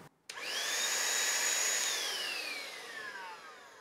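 FERM Action cordless site vacuum with a badly worn, dusty motor switched on: a click, then a rising whine that holds steady and slowly winds down, close and alone.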